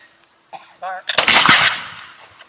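A War of 1812 musket fires a single loud, close blast that rolls on for about a second, with brief voice sounds just before it.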